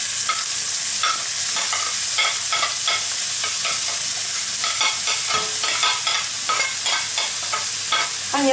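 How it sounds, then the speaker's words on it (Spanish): Chopped onion and garlic sauté in olive oil, a loud, close, continuous sizzle marked by repeated scraping stirs of a utensil against the pan. "vamos a poner un poco de aceite de oliva para sofreír lo que es la cebolla y el ajo"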